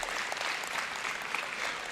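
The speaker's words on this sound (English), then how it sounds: "I think you deserve a round of applause for yourselves." Graduates at a Unisa autumn graduation ceremony applaud themselves, a steady wash of many hands clapping in a large hall, continuous and moderately loud throughout.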